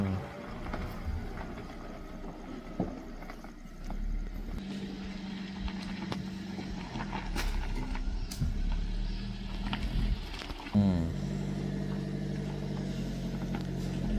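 A vehicle engine idles and revs unevenly as the driver reverses and turns it, a low steady rumble close by with shifting pitch and a brief rise near the end, under occasional voices.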